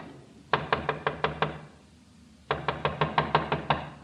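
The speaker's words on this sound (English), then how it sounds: "Someone's trying the outside door." Someone knocks at an outside door in an old radio drama: two bursts of six quick, sharp knocks, crisp and close, separated by a short pause, with no talking.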